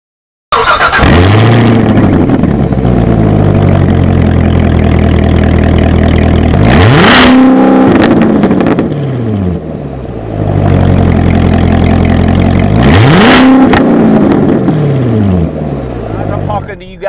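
A Corvette engine revs hard while driving, loud and close, climbing through repeated swells of acceleration with two distinct shifts or lifts before building again, steady and dominant throughout.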